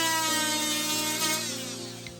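A power tool trims a greenhouse rafter, giving a steady, close, high-pitched whine that holds for a couple of seconds and then eases slightly, with no voices present.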